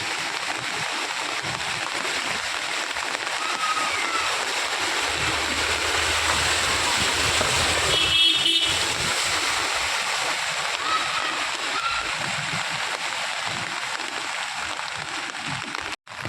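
Heavy monsoon rain in Chandigarh with floodwater reaching a house gate, a dense continuous rushing hiss of downpour and flowing water, loud and unbroken, with a brief voice-like murmur partway through.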